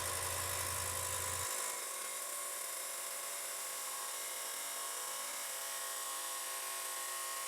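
A power saw cuts the end off a steel billet in a workshop, a steady high-pitched grinding whine running continuously throughout, loud and alone, with a low hum dropping out early on.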